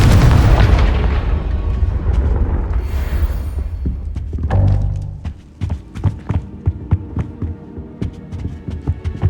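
A Confringo spell blast in the Hogwarts Legacy video game: a heavy, booming explosion with a deep rumbling throb that fades into a series of sharp, thudding impacts.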